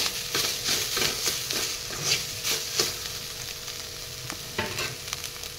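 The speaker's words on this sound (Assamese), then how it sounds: "এইখিনি এনেদৰে লৰাই দিম এফালৰ পৰা" A spoon scrapes repeatedly through spices and coriander powder frying in a pan for soybean curry, with a steady sizzle underneath and rhythmic stirring strokes close by.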